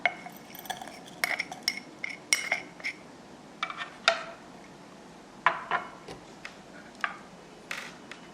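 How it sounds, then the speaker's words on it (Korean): Dry pu-erh tea leaves dropped into a small Yixing clay teapot make a series of light, close clinks and taps, scattered irregularly over a quiet background. "자사오에 차를 넣어줍니다."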